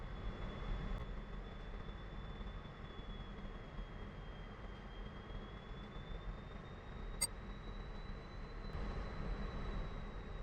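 A MiG-15bis jet taxis in the DCS World flight simulator, with a faint, steady engine rumble and a thin high whine held throughout, and no voices.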